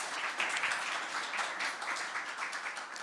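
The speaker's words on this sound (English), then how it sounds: "Applause for Ivan." Audience at an international youth policy conference applauds a presenter, a steady, moderately quiet round of clapping from a crowded room lasting a few seconds.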